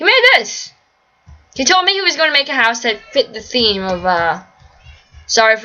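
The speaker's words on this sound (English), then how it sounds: "the cat noises, guys." Cats meow in a video game village house, short high mewing calls at the start and end mixed in with ongoing chatty talk from a nearby speaker.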